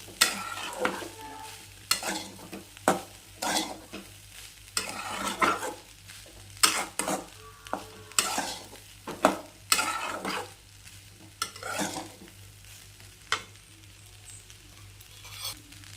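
Egg rice being stirred in a pan on low heat with salt, repeated scraping strokes against the pan at irregular intervals over a faint sizzle, close and clear with pauses between strokes.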